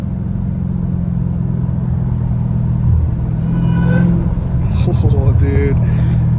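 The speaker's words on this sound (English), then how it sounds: "No car beats the sound of this car, dude." A Hellcat Redeye fitted with a cat-back exhaust drives down a street, its loud, deep rumble steady and close before rising as it accelerates, while a man briefly exclaims over it.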